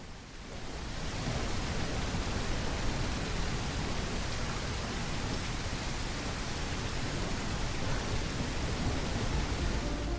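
Heavy storm rain pours steadily in the video game The Isle, a dense continuous hiss that swells in the first second and then holds at a constant level.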